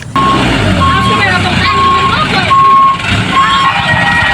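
A toy dump truck gives repeated steady reversing beeps at a regular pace, under a busy background with a person talking.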